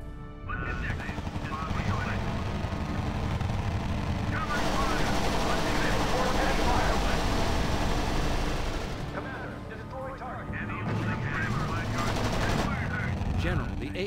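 Dense gunfire and rapid machine-gun bursts from a battle in the strategy video game R.U.S.E., a loud continuous barrage with heavy booms swelling and fading, and brief voice lines heard over the din.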